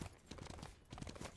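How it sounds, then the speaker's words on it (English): Lancelot's horse hooves in the game SMITE, a run of soft rhythmic clip-clop steps repeating close by during a fast ride, with no talking over them. "I'm just gonna hop on the horse and run away."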